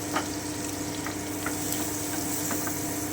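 Chopped garlic sizzles steadily in melted butter, a close, even crackle with soft stirring scrapes and small pops scattered throughout, for butter garlic egg.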